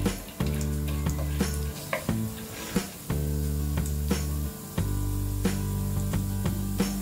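Chana dal and spices frying in hot oil in a pan for a South Indian dosa and idli chutney, giving a loud steady sizzle broken by several short stirring scrapes and clatters.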